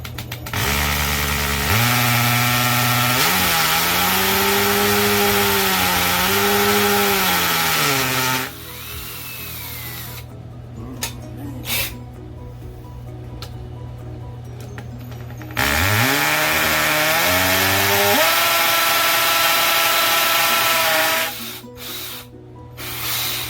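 A power tool whines loudly in two long bursts with rising and falling pitch while rivets go into the top of a DIY porta-boat dolly, separated by a quieter stretch with clicks and handling sounds.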